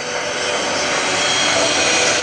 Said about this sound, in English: Now in front of you right now in that BFA 106 Gladiator airplane